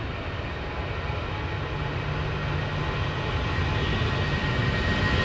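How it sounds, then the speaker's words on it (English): Boeing 777 airliner taxiing at London Heathrow Airport, heard from the field's edge: a steady, broad jet-engine roar with a faint whine running throughout, fairly distant and unbroken, with no talking. "We'll look at this 777 taxiing down."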